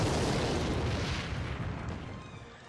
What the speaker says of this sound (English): And then I'm going to just rocket out his elixir pump here.